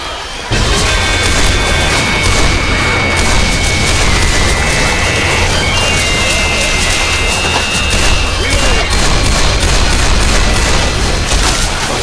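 Constant loud gunfire and explosions in a shooting video game, a dense, unbroken barrage of shots and crashes lasting the whole stretch, close and heavy throughout.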